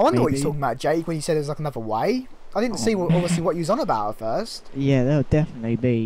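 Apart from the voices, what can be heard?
No everyday noises stand out.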